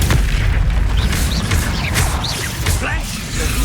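An Incendio fire spell is cast during combat in the video game Hogwarts Legacy: a loud, dense whooshing burst of magical fire amid steady booming battle effects and short sweeping chirps.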